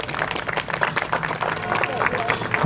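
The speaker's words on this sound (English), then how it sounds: "give another huge round of applause for all of our scouts" At a Cub Scout pack's final meeting of the season, one side of the audience gives a round of applause for the scouts. Dense clapping mixes with crowd chatter and some cheering, steady and moderately loud throughout.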